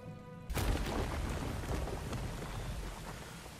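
Heavy rain in Star Wars Jedi: Fallen Order suddenly starts and pours steadily, a dense close hiss with a low rumble underneath, continuing to the end.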